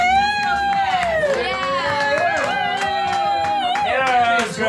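At a house party in San Francisco, guests and hosts cheer and shout with scattered clapping, a lively, close mix of excited voices and whoops rising in bursts over several seconds.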